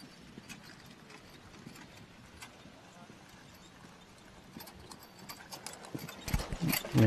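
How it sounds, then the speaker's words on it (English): Horses pull a carriage at a walk during a combined driving competition in Kentucky, their hooves giving a soft, steady clip-clop at a moderate distance. The steps grow louder and closer toward the end against faint outdoor background noise. "Horses walking nicely in stride."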